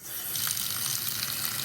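Warm tap water gushing steadily from a faucet onto LEGO pieces in a colander over a sink, a close, continuous splashing rush.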